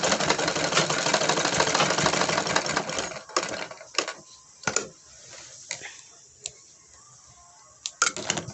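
Sewing machine stitching a woolen kurti, a dense, loud, continuous mechanical whir for about three seconds, then stopping and starting in short bursts separated by quiet handling clicks.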